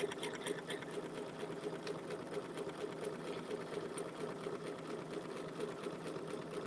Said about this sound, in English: Just start off stitching.